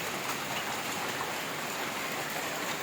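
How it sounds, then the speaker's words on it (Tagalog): Heavy rain pours down in a steady, dense hiss with no pauses, close and loud, with no voices. "Malakas ng ulan."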